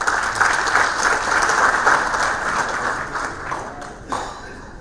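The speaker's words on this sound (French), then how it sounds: "je vous demande de l'applaudir" An audience at a general assembly applauds warmly, a dense wash of clapping that stays strong and then gradually thins out.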